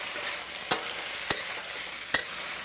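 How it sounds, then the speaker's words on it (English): Fried rice with sauce tossed together in a hot pan: a steady bright sizzle broken by three sharp clacks of the spatula against the pan. "Now we're just gonna toss everything together."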